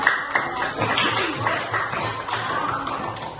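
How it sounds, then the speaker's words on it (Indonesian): Classroom applause breaks out after a group's presentation, a short burst of scattered hand claps that rises and stays lively, with some voices mixed in. "terima kasih tepuk tangan"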